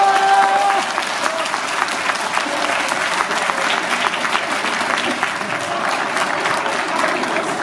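Crowd applause at a cattle show in the ring at Uttendorf Stuhlfelden, dense sustained clapping from many spectators filling the whole stretch at fairly loud level, with a few tonal sounds mixed in early on.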